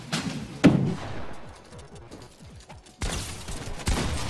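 Pump shotgun blasts in a video game, a loud sharp shot near the start followed by another burst later, with busy game effects underneath.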